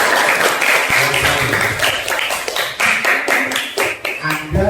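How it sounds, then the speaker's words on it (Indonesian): Classroom applause from a group of students, a dense burst of clapping that fills the whole stretch at close range with scattered voices mixed in. "Tepuk tangan dulu."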